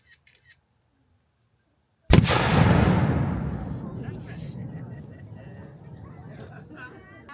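An artillery cannon fires a single loud, deep boom at a Bennington Battle Day ceremony outdoors, after a brief quiet moment with a few faint sounds, and the blast rumbles and rolls away slowly while distant voices murmur faintly.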